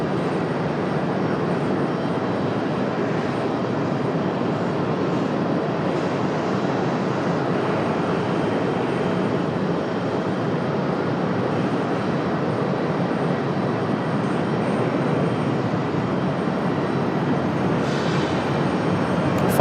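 American Airlines Boeing 777 backing up at Raleigh Durham airport, a steady broad jet engine rumble and whine heard from a distance, unchanging throughout with no voices.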